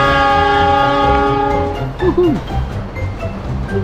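A Pertamina train in a modded GTA 5 sounds a long, loud horn blast that cuts off after about two seconds, followed by short horn squeals and rumbling wheels and engine noise, with no one speaking.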